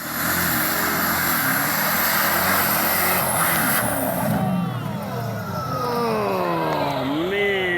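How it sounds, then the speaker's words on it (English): A tractor's engine roars loud and close during a pull competition. The heavy drone is steady and continuous, with a whining pitch that rises and bends toward the end. "Tractor pulling is a real competitive sport, but this pull didn't quite go as planned"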